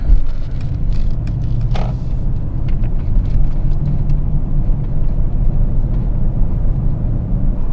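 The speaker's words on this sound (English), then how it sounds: "Let's take an on-ramp and see how the AMG handles." AMG GLE 63 S Coupe accelerates up a highway on-ramp, a loud steady low engine rumble with road roar heard from inside the cabin, continuous throughout with no talking.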